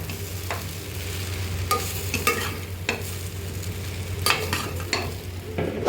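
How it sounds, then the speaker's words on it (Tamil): Masala frying in a pan as curry leaves and coriander leaves are stirred in, a continuous soft sizzle broken by several scraping strokes of a spatula, close up with no talking. "கொஞ்சமாக கொத்தமல்லி தழை போட்டு நல்லா ஒரு கிளறி விட்டுருவோம்"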